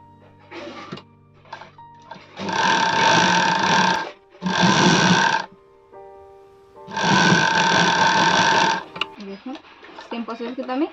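A sewing machine stitches the side seam of a readymade sleeveless kurti in three loud, steady bursts of whirring, with pauses between them and speech at the start and end.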